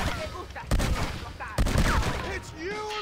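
Two booming shotgun blasts about a second apart in Red Dead Redemption, loud and close, with game chatter and ambient sound around them.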